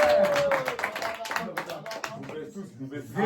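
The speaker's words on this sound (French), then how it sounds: "Et on applaudit tous le président." An audience clapping in a room, a brief burst of close, dense applause with speech over it, fading unevenly toward the end.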